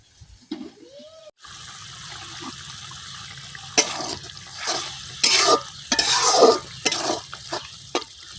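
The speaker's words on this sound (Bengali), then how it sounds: "এখন মশলাটা কিছুক্ষণ কষাই নেন।" Spice paste with green chilies is stirred and fried in a pan, a soft sizzle under repeated scraping strokes of a spoon that come in bursts, close and without talk.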